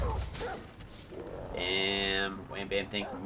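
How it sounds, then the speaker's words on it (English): A dog barks in the room, loud and close, with a few sharp yelps heard under someone talking and game sounds. "Oh, that's my dog. I'm so sorry."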